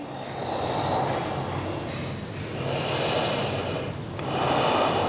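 Slow, deep breaths during a beginner yoga flow, drawn in and let out in long, broad waves. There are about three full cycles, close and steady, with no talking.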